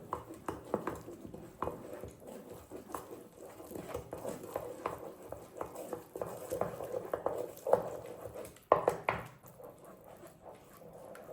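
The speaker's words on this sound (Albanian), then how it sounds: "Përsëri e përzi masën" A pogaçe dough mixture with ajvar is stirred in a bowl, giving soft, irregular wet slaps and patters that repeat in quick bursts, close and fairly quiet.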